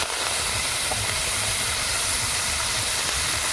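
Fenugreek greens tipped into hot tempering oil with garlic, a loud continuous broadband sizzle and hiss that stays steady throughout, close up.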